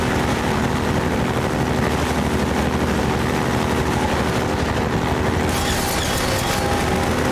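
Combat helicopter attacking in Half-Life 2, a loud constant engine roar and rotor drone filling the scene, with brighter noise joining near the end.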